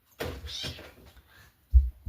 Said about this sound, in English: But she is the most vocal little kitty I have ever had.